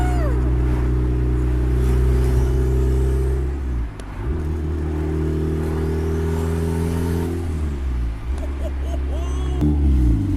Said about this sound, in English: Just hear the turbo